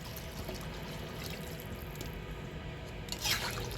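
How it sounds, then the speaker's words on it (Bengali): Broth poured into chicken curry simmering on a rooftop wood-fired stove, a steady watery pouring and splashing with a brief stronger splash near the end, close and continuous. "ঝোল দিয়ে দিব সিদ্ধ হওয়ার জন্য।"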